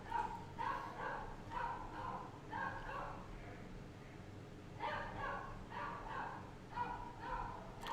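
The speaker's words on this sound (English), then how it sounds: "There's a dog outside." A very active dog outdoors barks and yips in short bursts, clustered near the start and again toward the end with quieter gaps between, heard at moderate distance over a steady low room hum.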